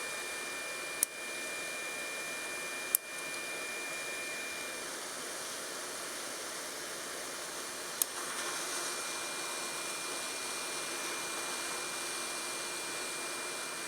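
A Txinlei 8858+ SMD hot-air rework station blows on a small chip on a circuit board, a steady airy hiss holding constant throughout, with a few sharp clicks.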